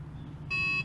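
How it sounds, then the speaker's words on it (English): A single short electronic beep, clean and tonal, sounds once over a low engine-like hum inside a Tesla Model 3. "Wait for the beep."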